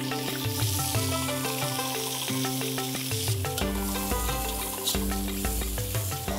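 Onion, garlic and ginger sautéing in a hot wok, with loud continuous sizzling and occasional stirring scrapes, all set against steady background music.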